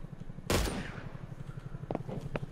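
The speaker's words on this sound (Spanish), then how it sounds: "Estoy disparando." A single sharp sniper rifle shot cracks loudly in a video game, ringing out with a long tail, followed by a few fainter, quicker shots later over a steady rhythmic game background.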